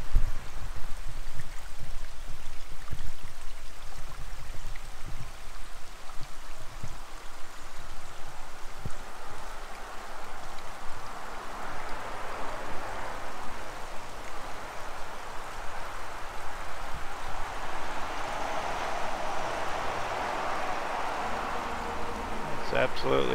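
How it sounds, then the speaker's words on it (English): A roadside waterfall stream rushes steadily beside US Highway 2 near West Glacier, Montana, its broad hiss partly masked by passing highway traffic. "The traffic noise is kind of drowning out the water."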